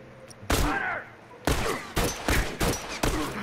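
Gunfire in The Last of Us multiplayer: several loud, sharp shots in quick succession, each with a bright, ringing tail, spaced roughly half a second to a second apart.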